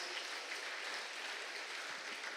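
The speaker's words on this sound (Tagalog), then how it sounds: "Yung palakpak na malakas." A church congregation claps loudly at a prayer service, a dense continuous wash of applause from many hands that stays even and close throughout, with no voices over it.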